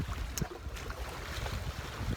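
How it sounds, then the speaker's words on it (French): Strong outdoor wind on a summer day, a rough gusting rumble buffeting the microphone with faint hissing, continuous and moderately quiet, no voices. "il y a un vent à décorner les bœufs"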